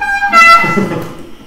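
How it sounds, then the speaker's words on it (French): An electric bike's horn gives one brief, bright, tonal honk, followed by a short burst of rougher noise as it fades, close and loud. "on peut démontrer le beau klaxon"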